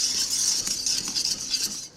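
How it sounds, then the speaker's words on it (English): A whisk works coconut cream pie filling in a pot on the stove, making a fast, continuous scraping and clinking rhythm close by that stops at the end. "just stirring and whisking for the next roughly minute, and then we'll take it right off the heat"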